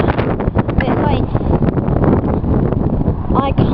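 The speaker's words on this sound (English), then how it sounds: "it's so windy down here" Strong wind buffets an outdoor microphone in a loud, continuous, rumbling roar, with a person talking over it throughout.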